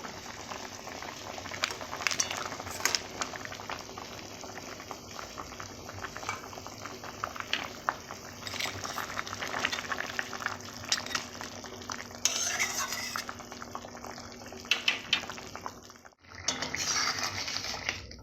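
Crab curry made with fried crabs bubbles and sizzles in a pot, a busy, continuous crackle broken by clinks and scrapes of a spoon stirring against metal, close and fairly quiet, with no voices.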